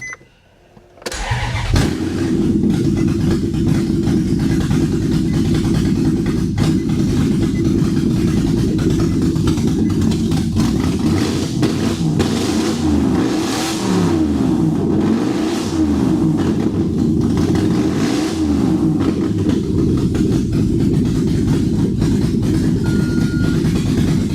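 A straight-piped Maserati Quattroporte S fires up after a brief pause and settles into a loud, rumbling idle. The heavy droning exhaust swells in a few revving waves midway and stays up close with no talking.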